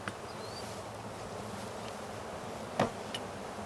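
Honey bees hum in a steady, close swarm while frames are handled during a hive transfer into a nuc box, with a brief louder buzz or bump near the end.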